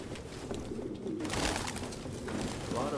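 Pigeons coo in the Detroit: Become Human video game, soft low throaty calls among many birds, fairly quiet and close against a rustling background, with no talking.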